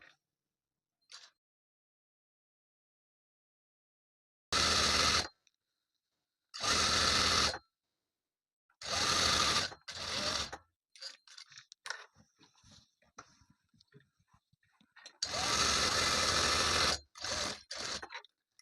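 A sewing machine stitches a kurti in several short, loud bursts of whirring with silent pauses between them, plus a few faint clicks and fabric rustles in the gaps.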